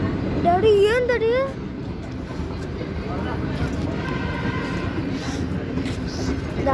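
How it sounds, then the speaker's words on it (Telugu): A train passes close by with a continuous heavy rumble and rolling clatter, loud throughout, while a high whistle-like tone rises over it early on and people talk under the noise. "we are backing one more train guys"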